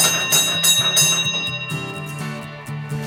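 A railway signal box bell rings out a code of four bells sent from Rolvenden, sharp metallic strikes in a clear sequence with ringing decay, close and loud in a quiet room.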